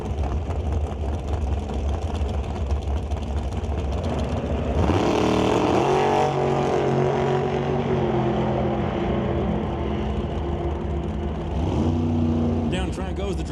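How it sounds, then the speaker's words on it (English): A dragster races down the drag strip at a Super Pro event, its engine a loud sustained roar that surges and shifts pitch midway, heard beneath continuous announcer commentary. "Down track goes the dragster"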